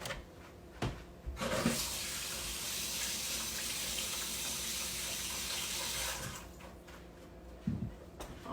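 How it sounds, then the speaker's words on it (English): A kitchen faucet runs in a steady hiss while hands are rinsed, starting and stopping with brief clunks of the tap, with quiet handling noises on either side. "Now, let me rinse my hands just a second."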